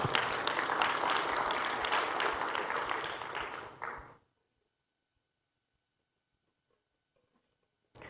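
An audience applauding during an animation summit talk, a dense burst of clapping for about four seconds that fades quickly into near silence, with a faint sound right at the end.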